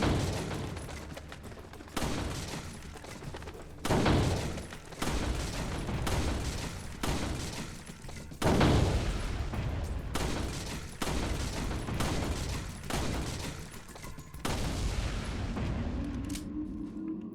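Rapid gunfire in Resident Evil 4, fired in repeated bursts with brief gaps between them, loud and close, over a steady game background.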